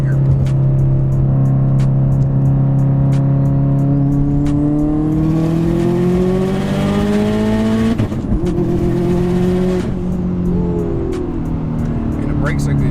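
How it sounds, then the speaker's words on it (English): A 2015 Subaru WRX STI with an aftermarket exhaust pulls hard in third gear, its loud close engine note climbing steadily, cutting briefly at a shift, then rising again with exhaust crackle, while a voice talks over it. "I'll bump this down and we'll do a little third gear pull."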